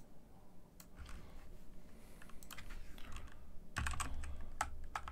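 Typing on a Redragon K617 Fizz RGB gaming keyboard during a speed test, quick bursts of crisp key clacks over a low background hum, close and fairly quiet.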